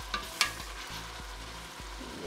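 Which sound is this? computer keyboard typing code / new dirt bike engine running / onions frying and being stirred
onions frying and being stirred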